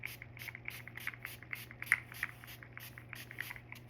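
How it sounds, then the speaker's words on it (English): A hand-held skin spray bottle releases a rapid series of short hissing bursts, quiet and close, repeating in a steady rhythm with no talk. "And then you spray again."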